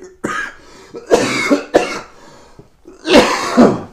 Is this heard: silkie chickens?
no